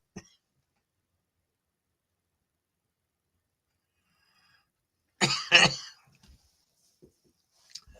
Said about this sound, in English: Just trying not to cough my head off